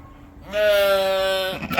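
A single sustained sheep bleat, close and fairly loud, lasting about a second, from a flock of pregnant ewes expecting lambs on a small farm.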